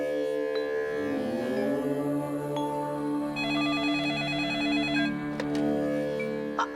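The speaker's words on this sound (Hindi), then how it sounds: "पहले फोन तो उठाने दे।" An electronic telephone ringtone chimes in repeated tonal bursts, clear and close, with no talking.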